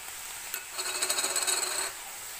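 Onions sautéed over high heat in a pan for a fried onion chutney produce a quiet background sizzle, then roughly a second of quick, rhythmic scraping as they are stirred.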